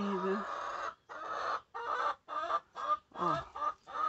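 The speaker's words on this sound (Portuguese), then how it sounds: "também tem galinha, ó." Hens on a small Brazilian farm plot, freshly done laying, cluck in a series of short bursts with brief gaps between them, fairly near and moderately loud, with no talk over them.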